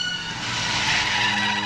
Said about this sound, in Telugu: డ్రైవర్ కారాపు